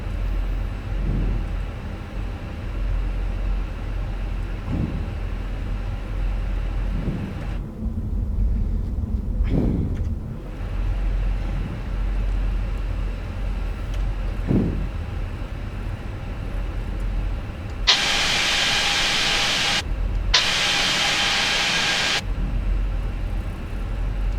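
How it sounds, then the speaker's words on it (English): A Fenix A320 airliner taxies toward runway 27 at Phuket in a flight simulator game, with a steady low engine rumble throughout and two brief loud hissing bursts near the end. "Using our nose steering tiller, we can position the aircraft on the taxiway."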